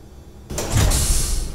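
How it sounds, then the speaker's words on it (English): Large hangar doors open in the video game Space Engineers, a loud mechanical rumbling slide that starts abruptly after a brief quiet and builds into a sustained, heavy grinding roar. "Damn, these doors are loud."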